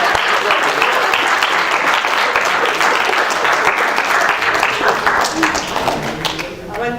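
Sustained applause from a classroom audience on a Friday evening, a dense wash of many hands clapping at steady volume for several seconds before tapering off slightly at the end.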